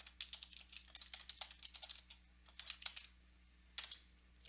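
Typing on a computer keyboard, quiet bursts of quick keystrokes with a short pause partway through, then a few more taps, close and alone.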